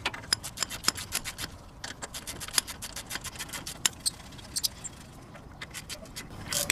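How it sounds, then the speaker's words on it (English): Rapid clicking of a 17mm 1/2-inch drive ratchet snugging wheel lug nuts, a close train of sharp ticks that pauses briefly and resumes. "So I'm just cinching these up with a 17mm 1/2-inch drive ratchet"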